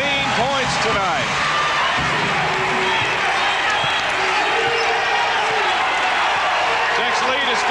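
A basketball crowd cheers loudly and continuously at a game, a dense roar that stays even throughout, with announcers talking over it.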